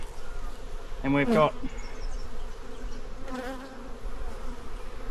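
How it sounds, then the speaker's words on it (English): Honeybees hum steadily and densely inside the top super of a hive, close by. Someone speaks briefly over the buzzing. "There's a good number of bees."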